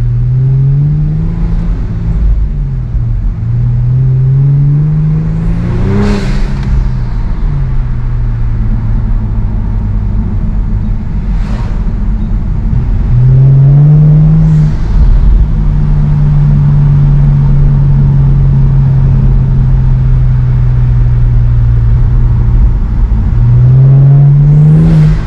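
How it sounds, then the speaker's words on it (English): A Kia Stinger GT accelerates hard from inside the cabin, its engine rising in pitch through repeated gear pulls, each sweep dropping at a shift before climbing again under a constant loud road roar. "I'll try to do a POV drive and show you the acceleration and the performance"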